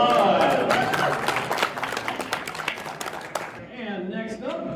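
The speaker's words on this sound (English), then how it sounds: "All right, round of applause." A crowd at a regional cosplay event claps in a burst of applause that tapers off, with a voice speaking over it near the end.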